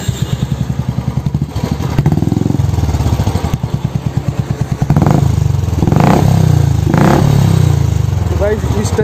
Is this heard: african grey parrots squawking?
no